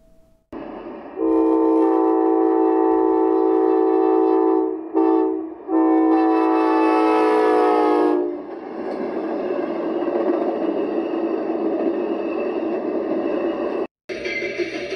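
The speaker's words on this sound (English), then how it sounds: "And now my model trains." Model trains run on a layout with a loud sustained multi-tone horn sounding twice, followed by a steady rolling rumble of wheels on track that continues to the end.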